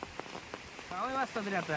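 Rain falls steadily outdoors during a flood by an overflowing stream onto a road, a soft patter beneath a voice talking throughout.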